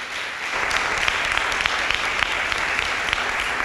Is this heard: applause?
yes